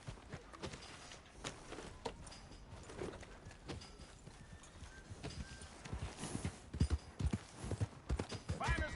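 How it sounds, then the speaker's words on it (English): Horse hooves clip-clop in Red Dead Redemption 2, a steady walking rhythm running through the whole stretch alongside in-game ambience and other game sounds, growing a little louder toward the end. "Hey! My horse!"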